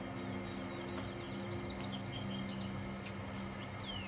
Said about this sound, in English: You can hear the birds tweeting away on the oak tree that sits in the centre of town.